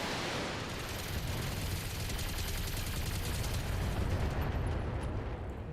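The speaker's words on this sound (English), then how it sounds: "let's keep working on that bombast laser turret" Sustained rapid weapon fire from a Bombast laser turret in the BattleTech mech combat game, a dense continuous rumbling barrage with no pauses, steady and loud throughout.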